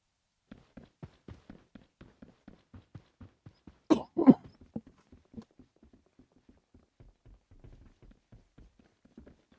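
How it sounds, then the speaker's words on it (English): A commentator at a Farlight 84 esports grand final coughs twice in quick succession near the microphone, the pair loud against a faint backdrop of soft, evenly spaced clicks and taps. "I have a slight cough."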